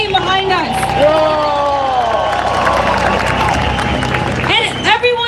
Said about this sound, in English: Please give a round of applause to Cyrus the Great, the team behind us.